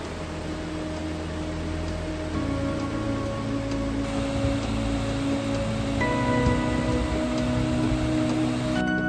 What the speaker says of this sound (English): the rain is now coming